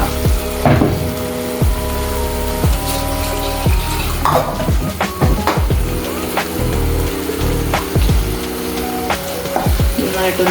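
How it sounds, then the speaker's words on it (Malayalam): A spoon stirs thick chicken kurma gravy with added water in a pan, making steady bubbling sizzle and repeated sharp scrapes and knocks against the pan, with a faint tonal hum behind. "നന്നായിട്ടൊന്ന് ഇളക്കിയിട്ട്"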